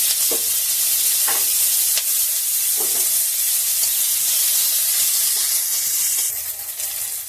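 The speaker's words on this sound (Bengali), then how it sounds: "এবার আমি ওই তেলেই একটা ছোট পেঁয়াজ আমি এখানে কুচি করে রেখেছিলাম, সেই পেঁয়াজটা ভেজে বেরেস্তা বানিয়ে নেব" Chopped onion sizzles steadily in hot oil, frying down into crisp birista, a loud continuous hiss with a few soft stirring knocks and no talking.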